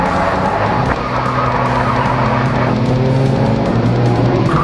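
A race car in a night enduro racing video game drives hard with a loud, continuous engine drone and sustained tire squeals and skids, close and unbroken throughout.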